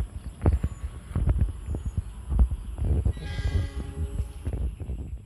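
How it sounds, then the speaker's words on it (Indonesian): The Logawa passenger train from Jember rolls into busy Kutoarjo station during the holiday rush, with rhythmic heavy thuds of wheels over rail joints and a sustained tonal horn or squeal partway through. "Yang masuk guys ini kereta api di stasiun Kutarjo, hanya ini kereta api Logawa guys"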